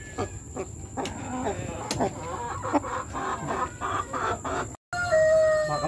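Conditioned rooster and laying hens clucking and calling close by in a farm yard, with repeated short clucks and a brief crow-like call, over steady background hum, with a brief dropout near the end.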